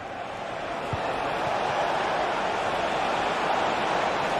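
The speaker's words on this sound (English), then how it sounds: "The crowd certainly think so. Just listen to that noise." Football video game crowd noise, a loud, constant stadium roar that swells slightly and holds steady, with no distinct voices standing out.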